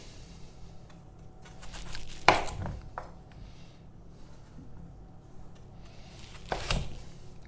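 Knife cutting small pieces in half on a board, two distinct thuddy cuts several seconds apart with quiet handling sounds between them and no talking.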